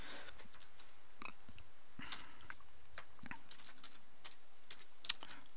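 Fingers typing on a computer keyboard, a quick irregular run of soft close clicks and taps for several seconds, with no voices.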